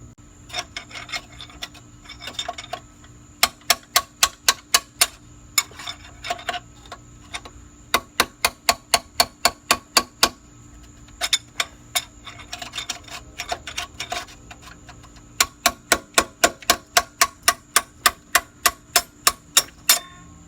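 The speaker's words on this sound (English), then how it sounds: "let me see if I can find something to punch this out with and get a hammer" A hammer strikes a punch driven into the catalytic converter of a Nissan Altima, sharp metallic taps coming in rapid regular runs separated by short pauses, close and loud, with no talking.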